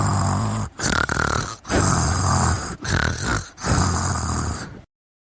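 A heavy-set woman snores loudly while resting by a cooler, rasping snorts and grunting breaths in four or five long, close bursts separated by short pauses.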